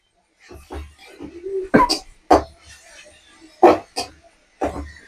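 A voice imitates a small child's cough with several short, sharp bursts spaced between quiet gaps, mixed with speech nearby.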